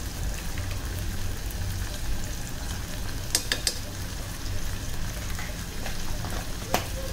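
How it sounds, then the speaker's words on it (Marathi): Tomato sautéing in a pan with a steady close sizzle and crackle, punctuated by a few sharp clicks from stirring, with no voices. "आणि छान आता टोमॅटो शिजेपर्यंत आपल्याला परतून घ्यायचं"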